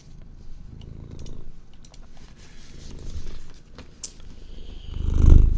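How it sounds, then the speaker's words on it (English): A cat purrs close by in soft, rumbling pulses that rise and fall with its breathing, with faint small clicks and rustles in between and a louder bump near the end. "I heard the purring."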